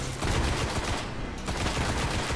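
Rapid gunfire from a shotgun in the video game Destiny, loud overlapping blasts packed closely together in a dense burst that runs the full length.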